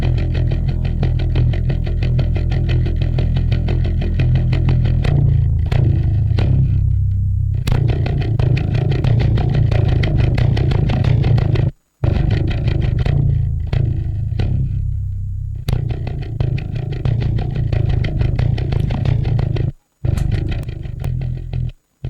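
Bass guitar run through a DemonFX Harmonic Booster pedal powered at 18 volts, giving a loud, heavily distorted, buzzing tone with sustained low notes, held steady for long stretches and broken by a few abrupt pauses.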